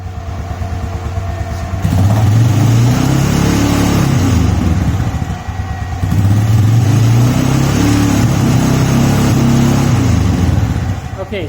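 A Sportsman 450 ATV runs with its wheels spinning, the engine revving up twice in long, rising, then falling surges over a constant idle, close and loud, with no speech.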